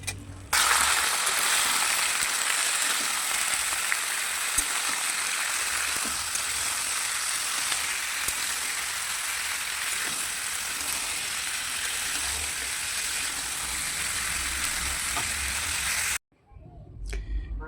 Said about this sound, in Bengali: আমার সব সবজিগুলোকে ভালো করে ভাজা হয়ে গেছে